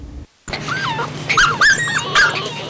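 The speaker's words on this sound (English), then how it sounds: "These 5 lab mixed puppies are glad to be at the Haywood County Animal Shelter." Five Labrador mix puppies bark and yip at an animal shelter in Haywood County, a close, busy chorus of high-pitched barks and whines repeating over a steady background hum, with no one talking.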